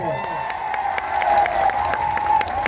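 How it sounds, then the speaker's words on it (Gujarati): A crowd at a political rally gives loud applause for Anandbhai Patel, steady dense clapping with a voice talking over it through the rest. "આનંદભાઈ પટેલ સાહેબ માટે જોરદાર તાળીઓ પાડ લઈએ"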